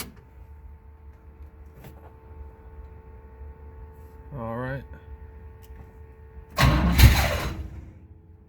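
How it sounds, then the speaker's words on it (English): A faint steady electric hum of a Chevelle's fuel pump runs throughout, then the engine, after sitting for months, cranks briefly and catches with a loud burst near the end; someone speaks briefly in between. "I turn the ignition, you hear the fuel pump."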